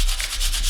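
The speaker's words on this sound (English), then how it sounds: "grater and just grate." Peeled Granny Smith apple rubbed against a kitchen grater, a close, continuous rasping scrape with rhythmic back-and-forth strokes, no voices.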